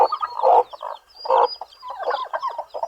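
Chickens and newly hatched chicks fill the air with close, busy clucking and high peeping in quick irregular bursts.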